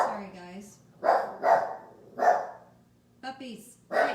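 Short, sharp dog barks come in a loose burst of four or five over about four seconds, close and fairly loud, alternating with someone talking indoors.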